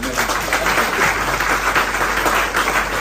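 A training-session audience applauds, many hands clapping in a dense, sustained wash that stays fairly loud and even throughout, with no voices over it.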